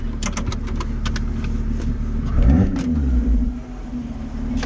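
A Lotus Exige S3 with 350 hp accelerates on a narrow, rain-wet stretch of road, its engine note rising and swelling loudly from inside the car, then easing off.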